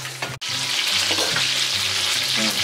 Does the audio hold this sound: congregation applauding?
no